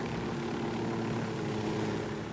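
A helicopter flying in Ghost Recon Wildlands gives off a steady, continuous rotor and engine drone, loud and even throughout with no breaks and no voices.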